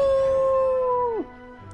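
A wolf howl from a Sonic video game: one long, loud sustained tone holding steady for about a second, then sliding sharply downward and breaking off, leaving quieter game ambience behind it.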